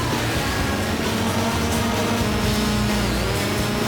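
A dense, loud, steady wall of white noise in a song, broadband hiss filling the whole clip with a faint tonal whine threaded through it.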